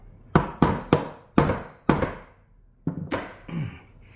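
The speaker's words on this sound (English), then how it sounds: "Might need a bigger hammer." A series of sharp hammer blows on a metal pin on a Harley-Davidson Sportster Ironhead brake, about seven strikes in uneven rhythm with brief pauses, close and ringing briefly.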